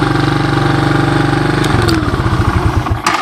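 A 1986 Honda TRX200SX ATV engine idles steadily and a little fast with a mechanical rattle, its putter shifting to a choppier rhythm partway through, close and loud.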